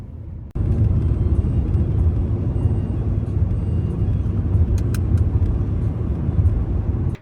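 A car cruises along a road on a four-hour autumn drive through fall foliage, its steady low engine and road rumble starting abruptly and holding loud and even throughout, with no talking.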